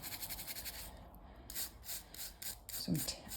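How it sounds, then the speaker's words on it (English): Soft brushing rub of a wipe over polygel nails to clear dust, faint and close, in short repeated strokes with a brief pause. "I'm just going to give them a nice rub over, get any of that dust off"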